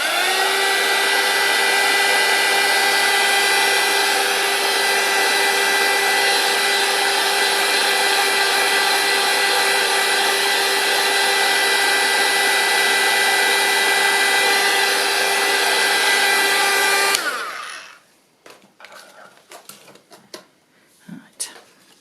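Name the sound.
drying a craft card with a heat dryer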